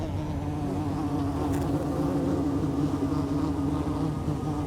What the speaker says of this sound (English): constantly buzz around their tiny colony.